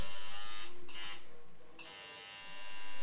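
Tattoo machine fitted with a 6 flat needle touching up a light line during a color tattoo, a continuous close electric buzz whose pitch and strength briefly dip as the needle works the skin.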